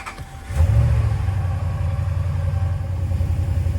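A 2012 Dodge Ram 1500 engine with a cylinder 6 misfire. After a brief lower start, it settles into a loud, steady, close running rumble with no voices.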